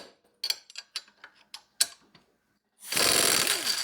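A brushless cordless impact gun zips a nut loose with a loud burst of dense hammering whirr, following a run of separate short clicks and knocks from handling the tool.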